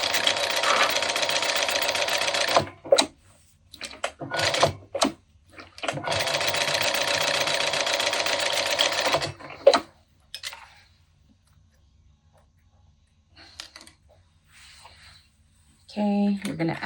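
A sewing machine top-stitches fabric in fast, continuous bursts of rapid mechanical clatter, stopping and starting several times with quiet pauses between, and a brief voice near the end.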